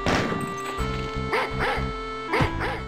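Dogs bark in The Ultimate Torment & Torture mod for Doom, several sharp, close barks and yips coming in quick pairs over a few seconds, loud and without speech.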